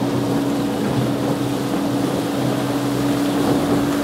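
A motorboat under way in Middle Harbour gives a steady, loud engine hum with a constant whine, mixed with wind buffeting the microphone and water rushing along the hull.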